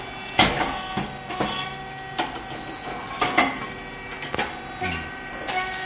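An SYP2520 popped rice cake machine making small 25 mm cakes from parboiled brown rice gives repeated sharp mechanical pops and clunks at an irregular beat over a steady running hum, loud and close, with no talk.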